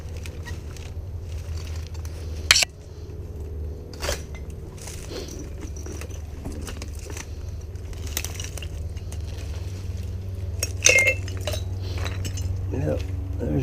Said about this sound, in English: Big piece of milk glass.